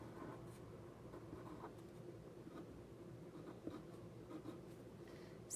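Pen or pencil writing an answer on graph paper, close and quiet, with steady scratchy strokes and small taps carrying on throughout, with no talking.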